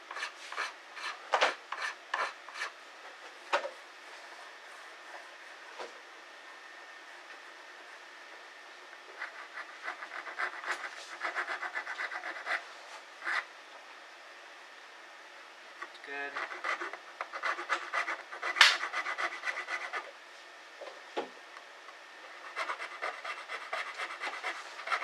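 Hand file rasping across sharp guitar fret ends, heard as bursts of quick, short scraping strokes with brief pauses between passes, close and moderately loud with no talking.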